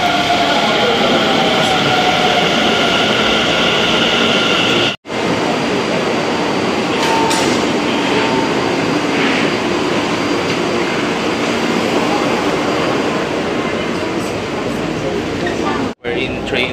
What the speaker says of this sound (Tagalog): We're in train right now, man.